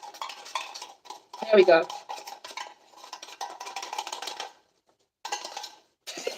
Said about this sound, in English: I'm gonna scoop this out